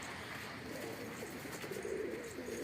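Mardin pigeons in a loft coo softly and continuously while a male puffs himself up, with low murmuring calls swelling slightly toward the end over faint background noise.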